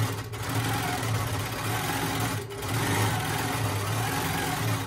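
A domestic sewing machine stitches steadily and continuously while free-motion quilting feathers around a block of a Granny Garden quilt, with a constant close motor hum and no talking.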